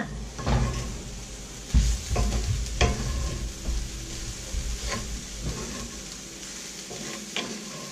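Garlic and scallions hitting a hot pan for a vegan Chinese noodle and vegetable dish, frying with a steady sizzle and occasional stirring scrapes and knocks, close and moderately loud, no talking.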